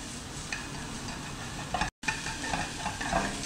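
Beef sizzles and fries in a pan over low to medium heat, with a steady hiss and occasional pops and stirring scrapes throughout.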